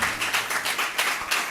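Hands clap in a church congregation, about eight quick, evenly spaced claps in a steady rhythm, close and fairly loud.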